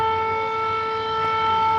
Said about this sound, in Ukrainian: Повітряна тривога, чуєте?